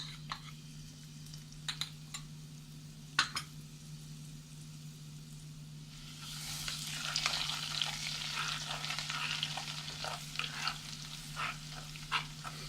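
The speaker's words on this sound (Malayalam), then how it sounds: "ഇതിൻ്റെ പച്ച മണം മാറുന്ന വരെ നമുക്കൊന്ന് വഴറ്റി കൊടുക്കാം" Oil sizzles steadily in a pan over low heat as beef vindaloo paste is sautéed, the frying growing louder and busier midway, with occasional sharp clicks of a spoon stirring.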